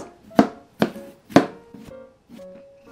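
A knife chops cucumber on a board for Korean cold cucumber soup: four or five sharp, separate chops about half a second apart, close and crisp, followed by a couple of softer taps.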